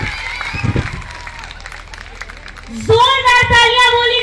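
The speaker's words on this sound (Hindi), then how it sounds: "सभी से जोरदार तालियां से एवरीवन" A crowd at a public event in Muzaffarpur, Bihar, bursts into loud clapping and cheering partway through after a voice on a microphone, with music and crowd noise continuing underneath.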